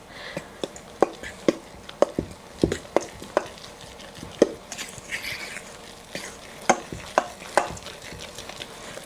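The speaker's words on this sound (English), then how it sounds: "So I'm gonna start with a cup of butter and some salt. I'm going to mix this together." Butter and salt mixed together in a bowl, a close series of soft, irregular scraping and tapping strokes roughly every half second, with no one talking.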